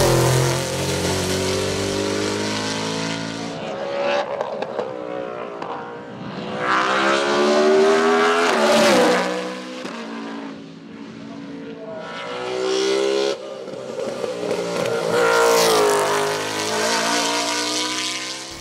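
A BMW M3 E92 race car at a hill climb roars past in repeated waves of engine revving, with rising and falling pitch as it accelerates and shifts, loud and close with no talk.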